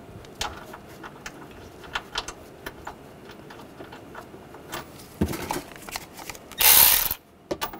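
A ratchet tightens bolts on a water pump being fitted to a 2015–2020 Ford F-150 V6: quick clicking pawl patter in uneven runs, close up, ending with a brief louder burst of handling noise.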